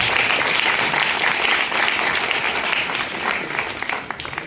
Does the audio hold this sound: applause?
yes